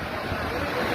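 Floodwater rushes loudly during a sudden cloudburst, a continuous roaring wash of water with wind-like buffeting, close and dense for the whole brief moment.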